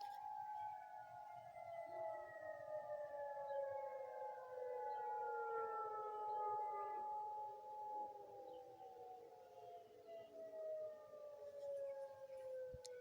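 Civil defense sirens wail across a wide area, several overlapping tones slowly rising and falling together in a long, sustained howl that sounds distant yet carries everywhere, with no talking.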